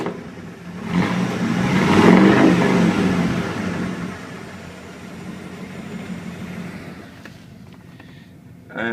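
A 1994 Ford F150 pickup or 2005 Buick LeSabre engine revs up loudly at the exhaust, swelling over a couple of seconds then easing back to a steady idle, with a short roar again at the end.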